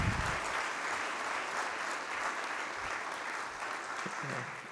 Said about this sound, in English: if you all would join me in giving applause to Dr. Rivolta.